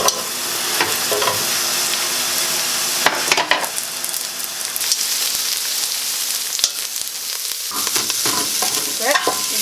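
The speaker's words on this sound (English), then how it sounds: "you just mix it a bit and leave it to brown" Onions frying in oil for Ugandan groundnut stew, a loud continuous sizzle close by with repeated scraping stirs of a spoon across the pan, no one speaking.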